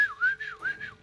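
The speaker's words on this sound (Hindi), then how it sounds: "आपने सीटी का जवाब सीटी से दिया नहीं है" A person whistles a signal reply: a short melodic call of rising and falling tones in two linked phrases, close and clear, with no talking.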